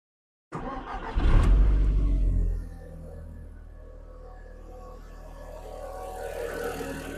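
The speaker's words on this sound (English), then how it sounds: "It's just started on the button and sat on idle like nothing." A high-mileage sports car with about 170,000 miles starts on its push button with a sharp crank and a short loud rev. It then drops to a steady, low idle that hums close by with no talk.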